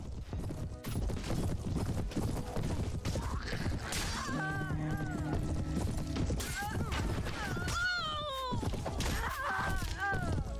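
Horses charge in Prophesy of Pendor, a medieval battle game, with rapid clip-clopping hooves and crashing impacts amid a chaotic fight, while a voice talks over the action.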